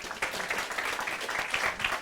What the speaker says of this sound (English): let's have another round of applause for James.